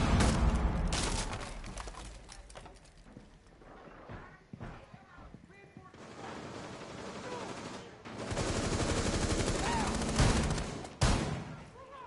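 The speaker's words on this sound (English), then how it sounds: "Getting shot from our entry point." Rapid bursts of gunfire in Rainbow Six Siege, loud clattering volleys at the start and again in the second half, separated by quieter stretches, with players chatting over the shooting.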